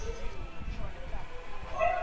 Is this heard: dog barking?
yes